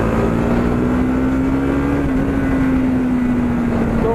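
A motorcycle engine runs after carburetor tuning, a loud steady drone with a slowly wavering pitch that rises and settles, close and continuous with no voices.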